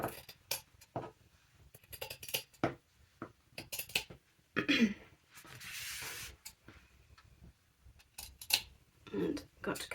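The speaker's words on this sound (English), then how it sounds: "I'm cutting it slightly past the folder" Scissors snip through a paper file folder in short, close, crisp bursts with brief pauses between cuts, trimming around a tab.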